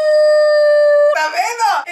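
A person imitates a small dog crying, first holding a steady high whine, then breaking into wavering, rising and falling yelps, loud and close.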